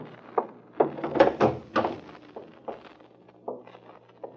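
A back door off a kitchen is opened, heard as a series of close wooden thunks, creaks and latch knocks spread unevenly over about four seconds, with quieter shuffling between the louder hits.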